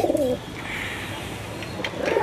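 A black Babra desi high flyer pigeon coos in a low, soft warble at the start and again near the end, with a quiet stretch between and no voices.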